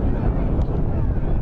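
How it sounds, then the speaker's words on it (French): Strong, violent wind at an outdoor football match in the Tournoi des Costières 2012 buffets the microphone as a steady, loud low roar with no clear breaks. "Et le vent se fait quand même insistant, il est assez violent."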